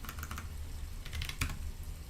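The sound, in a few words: typing on Red Dragon mechanical keyboard, brown switches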